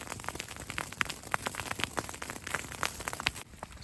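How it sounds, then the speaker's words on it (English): Rain falling on sand outdoors in winter, a steady dense patter of tiny crackling snaps and pops, close and continuous with no voices. "right here the sand, the rain is falling on it, and it sounds like the snap,"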